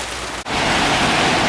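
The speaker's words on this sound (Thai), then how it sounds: "พอดีเสียงฝนอาจจะดังนิดนึงนะฝนตกนะครับ" Heavy rain pours down steadily during a Thai home cooking session, a dense, loud broadband hiss with one very brief dropout near the start, no voices present.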